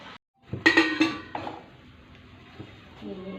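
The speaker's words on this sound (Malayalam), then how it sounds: "നമുക്കിനി അത് അടുപ്പത്തേക്ക് വയ്ക്കാം" A metal cooking pot of water for plantain pulissery clanks and clinks onto a stove in a home kitchen, with a few sharp close knocks of metal on metal followed by softer scrapes, and a voice faintly speaking.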